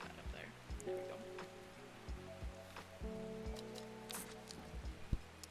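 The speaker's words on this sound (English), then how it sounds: "It's never stopped raining in Undermere." Steady rain falls throughout the rainy town of Undermere in the video game Strange Horticulture, a soft continuous hiss under quiet musical tones and occasional clicks, with speech faintly present.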